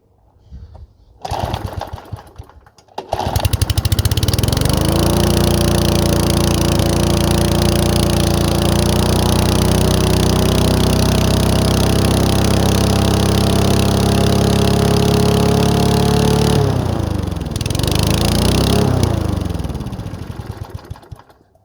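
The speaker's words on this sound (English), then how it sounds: "For a first start, I wouldn't consider that too bad, but the main thing is it runs." A £20 petrol lawnmower, bought as a non-runner and started on choke, catches after a couple of short bursts and then runs steadily and loudly at close range for about fifteen seconds before its engine note dips and fades.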